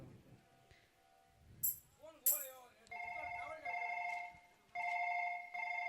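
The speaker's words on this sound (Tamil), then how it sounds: "மாமாக்கே ஃபோன் பண்ணி கேட்டுருவோம்" A telephone rings while a call is placed to an uncle, its electronic ringing tone sounding in several short bursts, fairly faint, with a few brief sounds and low voices before it starts.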